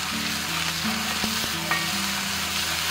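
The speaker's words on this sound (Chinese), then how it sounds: "保持中火煎。" Marinated chicken thigh sizzles in oil in a flat pan over medium heat, a steady crackling fry with a few sharp clicks and scrapes of a utensil nearby, no voices.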